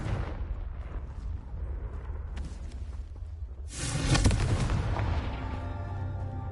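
The Confringo blasting spell in Hogwarts Legacy goes off partway through as a loud, booming explosion with a crackling burst and a rumbling tail, following quieter magical ambience and movement.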